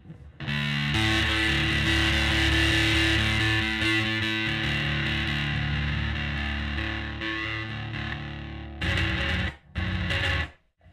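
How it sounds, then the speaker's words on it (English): A Dwarfcraft Devices Eau Claire Thunder distortion pedal on very high gain makes an electric guitar ring out with sustained feedback, heavily distorted, loud and continuous, then a few short choppy bursts near the end. "It's very high gain, that's why it's going to feed back like that."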